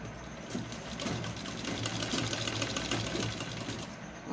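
A sewing machine runs close up, stitching a tack to join fabric pieces for a mat during tailoring practice: a steady, rapid whirring chatter that continues without pause.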